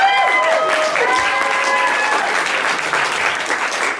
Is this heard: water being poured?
no